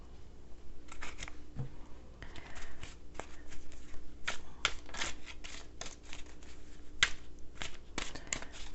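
A tarot card deck is shuffled close up, producing a run of crisp, riffling card flutters and soft slaps in irregular bursts, with no voices over it.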